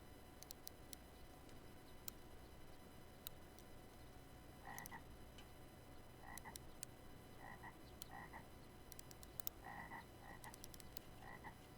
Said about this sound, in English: I hear the frogs.